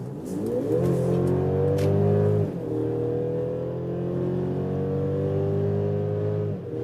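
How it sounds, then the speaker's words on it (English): Mercedes GLC 300 4MATIC SUV in sports mode accelerating hard onto a motorway from 60 km/h, its engine note climbing steadily through two gears with a brief dip at the shift, heard loud from inside the cabin. "Let's go to the sports mode, and then we can do first acceleration onto the motorway from 60 kilometers an hour"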